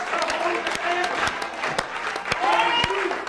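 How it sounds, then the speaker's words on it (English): A church congregation claps during a lively worship service, sharp claps recurring at irregular intervals over singing and spoken voices. "Clap your hands."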